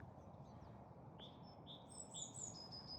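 Several birds sing in a spring outdoor setting, with thin chirps and short whistled phrases clustering in the second half over a steady background hush, fairly faint and a little distant.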